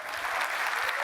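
Audience applause after a marriage proposal announcement, a steady burst of clapping from a crowd, dense and sustained throughout the short moment with no talk over it.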